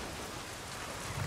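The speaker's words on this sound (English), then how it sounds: "Let's go ride our bike in the rain some more." Steady rain hiss from the video game Days Gone, a brief soft wash of falling rain with no voices.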